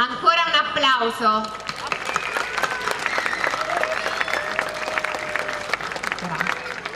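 Sustained applause from a crowd at a folklore festival in Lavello, Italy, dense clapping continuing steadily, with a voice briefly heard at the start over the clapping.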